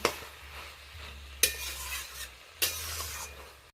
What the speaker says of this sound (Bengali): এবার ডাল, মোচা সমস্ত কিছু মশলার সাথে ভালো করে নেড়ে চেড়ে কয়েক মিনিট ধরে রান্না করে নেব